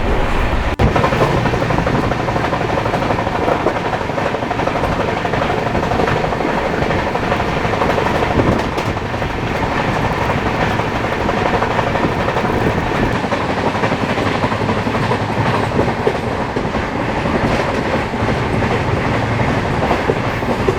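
The Ranthambhore Express runs at about 130 km/h, its loud, continuous rumble and rhythmic clickety-clack of wheels on rail heard from on board without pause throughout.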